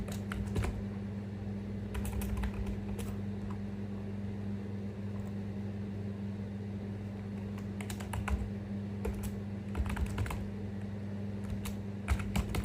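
Keys clatter on a computer keyboard as a database command is typed, short bursts of quick clicks separated by pauses over a steady low background hum.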